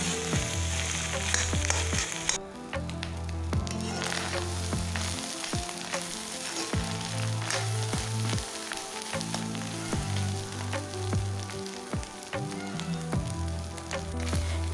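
Big fish eggs frying in an open pan with oil while being stirred often, a steady dense sizzle broken by frequent scraping stirs and sharp ticks of the spatula, close and alone.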